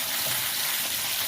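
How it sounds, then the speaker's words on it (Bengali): Chopped tomato and black cumin stirring in hot oil for a Bengali parshe fish tel jhal, giving a steady close hiss of sizzling that runs evenly throughout, with no speech. "ওই একই তেলে দিয়ে দেব কালো জিরে, এবার দেব টমেটো কুচি, ভালো করে নাড়াচাড়া করে নেব।"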